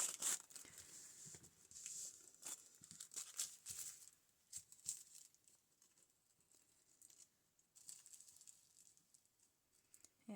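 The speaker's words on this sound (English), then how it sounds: "Let's start adding some tissue paper." Tissue paper is torn and crinkled by hand for a fabric collage, producing quiet, irregular crackles and rustles in close, soft bursts with pauses between them.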